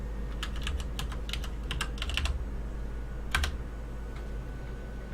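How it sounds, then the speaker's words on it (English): Rapid bursts of typing on a computer keyboard, clusters of close key clicks with short pauses between them, heard alone over a low steady hum. "type install and press enter"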